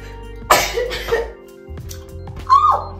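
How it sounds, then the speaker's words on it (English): A single close, sharp sneeze bursts out, followed by a smaller breathy sound and another short outburst moments later. "so I need to sneeze"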